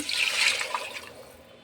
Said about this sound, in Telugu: టూ కప్స్ వాటర్ అయితే పోసుకుంటున్నాను